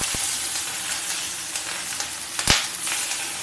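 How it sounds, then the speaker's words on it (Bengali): Fish fry in a wok alongside neem leaves, giving a steady, close hiss of sizzling oil with scattered crackles and one sharp clack of the utensil near the end. "মাছগুলো আমি চটপট করে ভেজে নেব"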